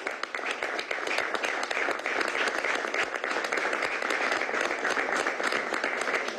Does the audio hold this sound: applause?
yes